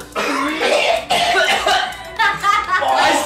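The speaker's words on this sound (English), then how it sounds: "I started coughing" A person coughs hard several times in close succession, harsh raspy bursts with brief gaps between them.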